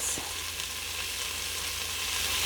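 Meat sears in a hot pan, a soft, even sizzling hiss that holds steady throughout with one faint tap near the start, fairly quiet and close, no voices.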